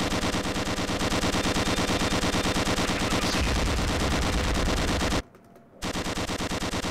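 Dense, rapid automatic turret gunfire in Gunman Chronicles hammers away loud and continuous, a sustained rattling stream with a brief pause near the end before the firing resumes.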